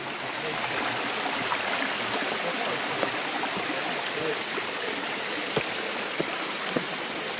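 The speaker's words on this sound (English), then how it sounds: "These are the lower falls" The lower falls of Panther Creek Preserve pour in a steady, dense roar of rushing water, heard close by and unbroken, with occasional faint clicks over the constant wash.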